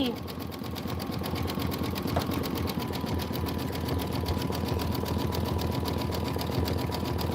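Sewing machine stitching a Kimberbell bench pillow, a steady rapid mechanical chatter with a continuous motor hum, close and unbroken throughout, with talk over it.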